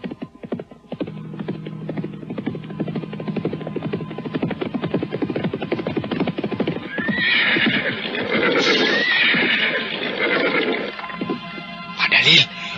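Horse hooves clip-clop steadily in a rapid rhythm, then a loud neigh and whinny rise over them, with another brief whinny near the end; close and prominent.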